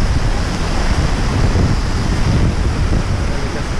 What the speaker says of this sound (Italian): Le cascate, la parte finale.